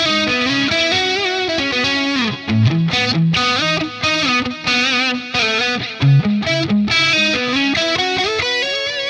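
An electric guitar through the Fortin Nameless X amp plugin plays a bluesy riff with bright, lightly driven single-coil tone, notes sustaining and bending in a steady flowing line.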